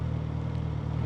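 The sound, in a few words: Suzuki GSX-S1000 motorcycle pulling away on low RPM assist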